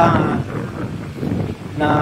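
Strong wind buffets the microphone in heavy low rumbling gusts over big waves, with a hint of water and voices faintly under the roar.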